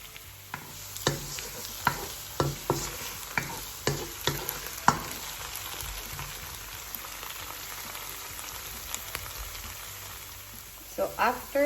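Potato pieces frying in a pan for spicy corned beef, a steady soft sizzle with scattered sharp crackles and pops, close and fairly quiet, with a few clinks of stirring near the end.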